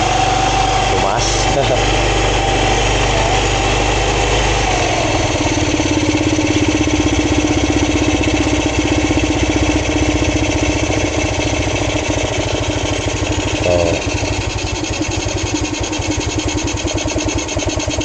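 A stock-carbureted Rusi motorcycle engine idles steadily at close range while the carburetor is re-adjusted, with a brief change in engine note partway through and occasional voices nearby.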